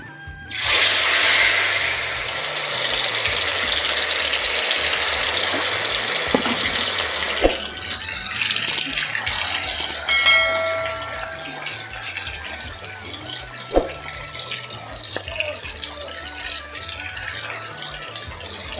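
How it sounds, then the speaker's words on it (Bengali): Spiced chicken pieces frying in hot oil in a kadai, a loud, steady sizzle and hiss that starts suddenly and settles slightly, with occasional clinks of a utensil. "তেলটা গরম হয়ে গেছে এবারে একটা একটা করে আমি চিকেন ছাড়বো"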